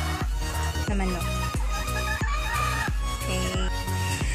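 Gamefowl rooster crowing repeatedly in loud, close calls, with other crows and clucks overlapping from nearby birds in a busy yard, no talking heard.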